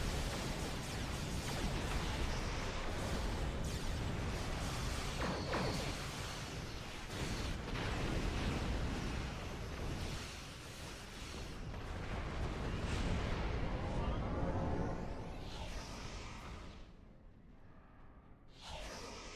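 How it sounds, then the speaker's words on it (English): Torpedoes launched in the Star Trek Online space combat game, a dense, loud barrage of booming blasts and rushing whooshes that rolls on almost without a break before it thins out near the end. "Torpedoes away!"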